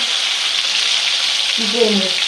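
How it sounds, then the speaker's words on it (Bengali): Chicken frying in a pot on a gas stove, a loud continuous hiss of hot oil, with a brief faint voice near the end. "এই যে মুরগিটা আমার একটা মশ মশা করে ভাজা ভাজা হয়ে গেছে"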